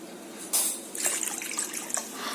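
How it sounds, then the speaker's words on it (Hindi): Water tipped from a glass into a cooking pan in a home kitchen, a close splashing pour starting abruptly and running in a few uneven gushes, with no talking. "ये 2 गिलास पानी मैंने इस पैन पर दिया है और 1 गिलास।"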